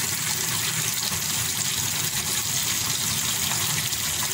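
Hand-dyed superfine merino wool is rinsed under a running tap without soap, giving a loud, continuous gush of water that fills the whole stretch with no voices.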